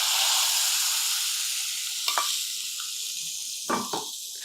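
A pinch of asafoetida goes into hot oil for a tempering for a South Indian tamarind stew, giving a steady close sizzle with a couple of brief spattering bursts, no talk.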